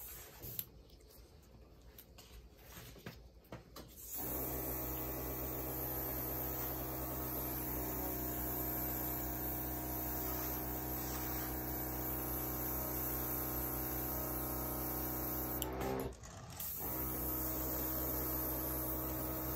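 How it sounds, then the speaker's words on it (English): A small air compressor gun blows acrylic paint across a surface, a steady hissing, humming airflow that starts after a few seconds and runs continuously, close and fairly loud, with one brief break near the end. "instead of blowing it by mouth, I'm going to use my little compressor gun here"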